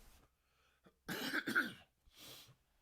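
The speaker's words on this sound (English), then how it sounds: "I just coughed and I apologize for that." A short burst of coughing, close up, then a quieter cough after a brief pause, with near silence around it.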